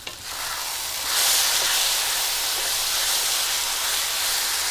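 Red chili powder and spices are stirred into mutton in a hot pan for Kerala-style roast, giving a steady loud sizzle and hiss that rises after a second and continues with faint scraping, close by.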